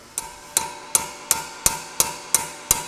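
A hammer drives a bearing onto a vehicle steering shaft through a socket that presses only on the bearing's inner race, giving eight sharp metallic blows at a steady, even pace, close and clear with no talk.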